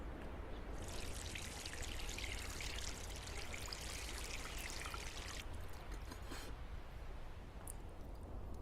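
Water pours steadily from a tap as someone washes their hands, a continuous close trickling stream with a brighter splashing burst in the middle, no voices.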